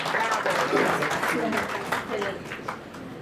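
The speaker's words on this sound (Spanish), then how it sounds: "Un fuerte aplauso, por favor." An audience at a round-table forum breaks into applause, a fairly close burst of many hands clapping that gradually tapers, with voices mixed in among the clapping.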